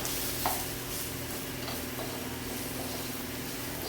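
Onions frying lightly with salt and turmeric in a pan, stirred: a steady soft sizzle runs throughout with faint scraping strokes, including one brief clink near the start, with no talking.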